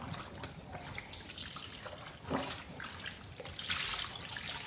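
Cotton clothes are sloshed and rinsed in a tub of clean water, producing continuous close splashing and dripping with a few louder swishes near the end.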